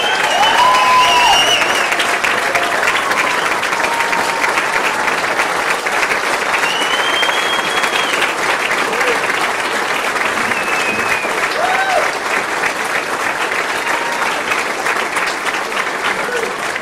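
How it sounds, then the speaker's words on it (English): An audience at a hall of fame speaker event welcomes football player Don Beebe with loud, continuous applause that stays full and even for over fifteen seconds, with faint voices mixed in. "Let's give a nice round of applause."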